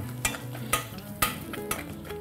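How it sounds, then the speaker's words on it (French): Potato and cod being mashed together for brandade while olive oil is worked in, with a steady run of soft, wet squelching strokes and a sharper scraping hit about every half second, close and moderately loud. "Je vais venir monter doucement à l'huile d'olive"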